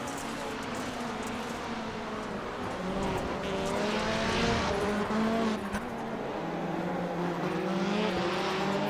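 Rallycross race cars in a sim racing game at Sonoma: engines howl continuously with rising and falling pitch as cars chase through corners, loud and sustained, with occasional tyre scrub and no talk.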